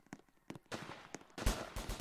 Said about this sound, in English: Alright, I hear gunshots.